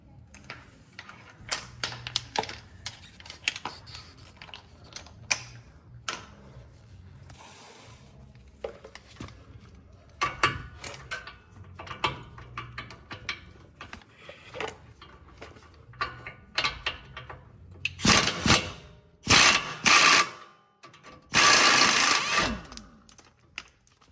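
A wrench loosens a 21 mm suspension bolt on a 2019-or-later Ram Rebel with air suspension, giving close, rapid ratcheting clicks in bursts, then louder metallic clanks and scrapes near the end.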